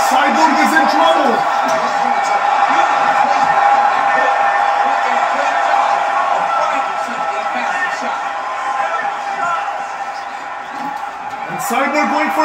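Arena crowd noise at a UFC women's bantamweight championship fight between Cris Cyborg and Holly Holm, a steady roar with whoops and swells beneath continuous commentary.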